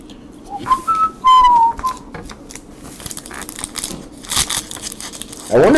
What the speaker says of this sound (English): I wonder if I whistle a song,